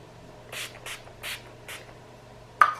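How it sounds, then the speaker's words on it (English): Wet n Wild Photo Focus Matte Finishing Setting Spray misting in four short, soft hisses spaced about half a second apart, followed by a brief sharp click. "I will be using the Wet n Wild Photo Focus Matte Finishing Setting Spray"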